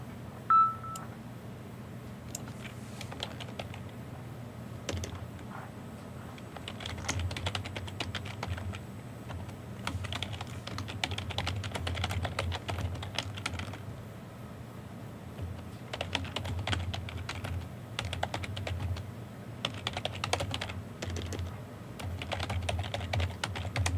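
Computer keyboard typing goes on steadily, in quick irregular bursts of key clicks with short pauses, close and clear, with no talk.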